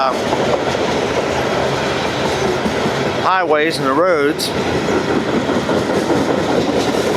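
A freight train rumbles past on the line near Hanson, Kentucky, a loud steady roar with rail clatter, briefly joined by a horn-like tonal sound midway while someone talks over it.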